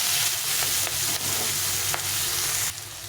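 Vegetables and capsicum frying in oil for fried rice made from leftover rice: a continuous close sizzle broken by repeated scraping stirs of a spatula.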